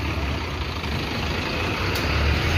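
A red goods vehicle bound for Sargodha, loaded with goats, runs steadily nearby, its broad low engine rumble continuing without a break and with no talk over it.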